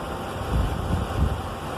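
Engine of a 2017 Mitsubishi Pajero, recently repaired for a misfire, idling with a low, steady rumble and gentle even pulses, heard close and alone.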